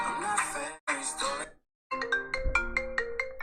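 A phone ringtone made from a TikTok sound plays a bright, chiming melody with repeated notes, following a stretch of muffled voice-like sound and a short pause.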